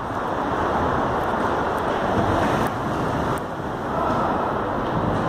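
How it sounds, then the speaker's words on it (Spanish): Steady, loud wind buffeting the microphone outdoors on a cold day in Pasco, a continuous broadband roar with slight gusting dips and no talking. "muy ventoso también"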